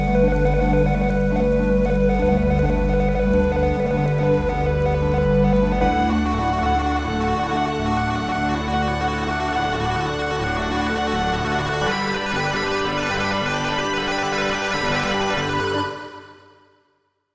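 A synth ambient arp pad plays at 120 BPM, a dense shimmering wash of repeating notes under long reverb and chorus, steady and loud before fading out at the end.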